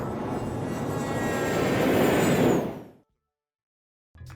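A Dassault Falcon 900 trijet, a small three-engine business plane, roars loudly and steadily with broadband engine noise that swells slightly before fading away abruptly into silence, then a brief noise returns at the end.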